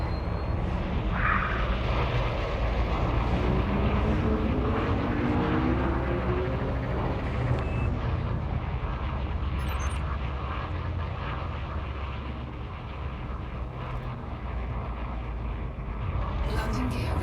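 Spaceship engines in the video game Elite Dangerous roar steadily as the ship climbs from a planet surface to orbit, a loud continuous low rumble with a droning whine that holds evenly throughout.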